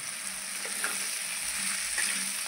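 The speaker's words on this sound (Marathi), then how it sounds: "हळद चांगली तेलामध्ये फ्राय झाली की त्यामध्ये लगेच आपण बारीक कट करून घेतलेली भेंडी टाकणार आहे" Chopped okra sizzling in hot oil with turmeric makes a continuous, dense frying hiss with faint scattered crackles, close and steady, with no talking.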